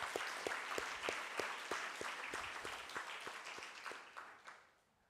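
Applause for graduates at a Youth Day event, many hands clapping in a quick, fairly rhythmic patter that holds steady and then fades away near the end.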